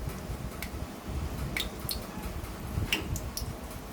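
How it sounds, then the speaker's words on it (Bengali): Banana flower fritters frying in a pan of oil give a soft, steady sizzle with occasional light clicks and taps of utensils against the pan, fairly quiet and close. "এমনি করে করে আমি ভেজে নিচ্ছি।"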